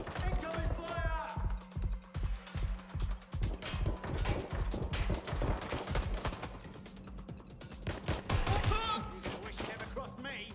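Rapid bursts of gunfire in the video game Watch Dogs Legion crackle amid dense in-game action, mixed with hoofbeat-like thuds, engine noise and a voice speaking over the mayhem.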